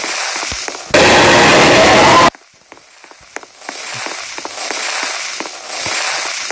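TNT blows up in a Roblox game as a loud blast of about a second and a half, followed by scattered crackles and pops over steady background game noise.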